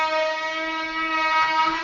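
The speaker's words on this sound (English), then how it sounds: "Well, maybe you can hear my floor sander upstairs." Floor sander running upstairs, heard as a steady, droning motor whine with a strong tonal hum that holds unchanged and continuous throughout.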